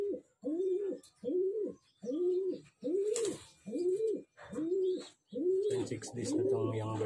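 A six-day-old racing pigeon squab coos in a steady series of about eight soft, rounded calls, close by and clear, with light handling noise near the end.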